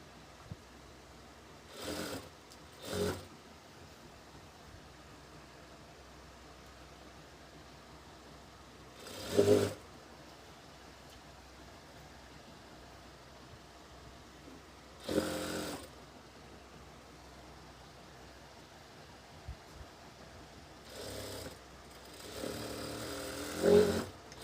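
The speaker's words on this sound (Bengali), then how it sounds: "মিলিয়ে আমরা এইভাবে সেলাই করে নিব এটা।" A sewing machine stitching a seam on a ladies' salwar runs in several short, quiet bursts separated by long pauses, with a final longer run near the end.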